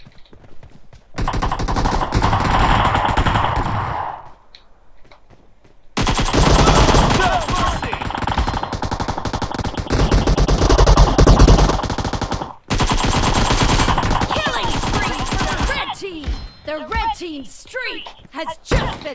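Rapid automatic gunfire in PUBG Mobile's TDM war mode, loud dense bursts separated by brief gaps and ending in scattered single shots, with a voice talking over parts of it.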